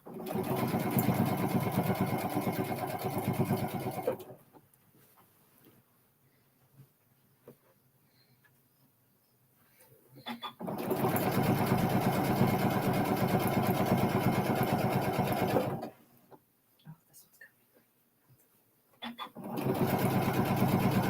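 Sewing machine stitching fabric, running in two long loud bursts of steady whirring separated by quiet pauses, then starting again at the end.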